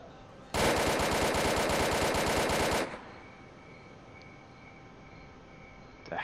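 Automatic gunfire in the S.T.A.L.K.E.R. video game, a loud sustained burst of rapid shots lasting about two seconds, then fading into quieter game ambience.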